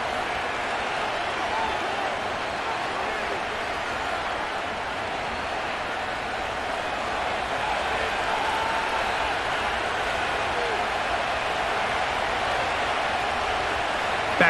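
Steady stadium crowd roar during a Madden NFL 25 game between the Baltimore Ravens and the Tampa Bay Buccaneers, a continuous dense wash of cheering and murmur filling the whole stretch at an even level.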